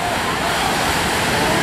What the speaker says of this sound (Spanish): Allá se observa que la presión de las olas es muy grande